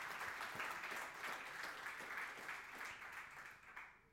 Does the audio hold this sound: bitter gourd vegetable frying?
no